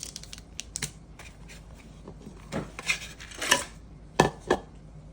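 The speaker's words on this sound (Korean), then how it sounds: "그릇에다가 내용물을 덜어서 용기를 비운다." Contents of a Yukgaejang Sabalmyeon instant noodle cup tipped into a bowl, giving scattered light clicks and a few sharper clatters up close, with no voices.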